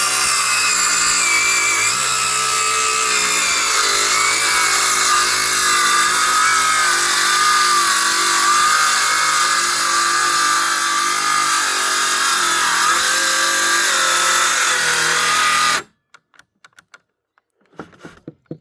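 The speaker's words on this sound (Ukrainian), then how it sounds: "Ріжу цю саму доску тільки з другої сторони, щоб було по-чесному." A power saw rips steadily through an acacia wood board for about sixteen seconds, loud and close, its motor whining at full load without pause, then cuts off abruptly, leaving near-silence with a few faint knocks.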